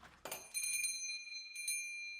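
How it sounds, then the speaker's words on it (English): A door chime rings in a shop: two bright struck tones with sustained ringing overtones, then a softer second strike, fairly close and without talk. "The door chime rang, and Tom dropped the blade."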